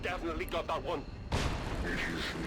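Overwatch shots fired at a zombie in XCOM 2, a sharp gunfire burst with a lingering rumble that follows a stretch of talking.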